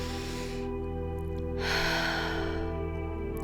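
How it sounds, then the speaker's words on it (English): A person takes a slow, deep breath in and then lets out a long exhale, close and clear over a steady humming musical drone, with no words spoken. "Deep breath in."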